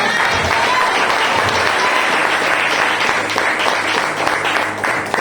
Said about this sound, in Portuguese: Aplauda o nome de Jesus Cristo